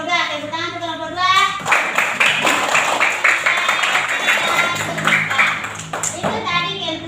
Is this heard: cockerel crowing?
no